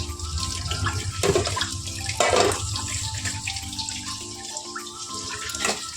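Dishes being washed under a running kitchen tap: a steady gush of water pours throughout, with occasional louder splashes and clatter as items pass beneath the stream, and no talking.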